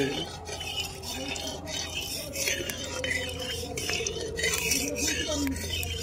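A utensil stirs mustard oil in a metal pan, producing soft scraping and light clinks at close range over a low steady background, with faint voices at times.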